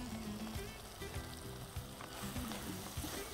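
Paneer goes into okra masala sizzling in a pan, a steady soft frying crackle with occasional stirring scrapes, quiet and continuous throughout.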